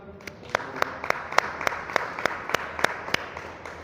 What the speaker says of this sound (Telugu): దేవుని చప్పట్లు కొడదాం ఒకసారి.